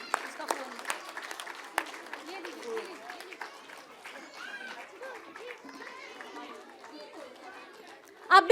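A preschool annual day audience claps in scattered, fairly quiet bursts, with chatter and children's voices mixed in and a louder burst at the very end.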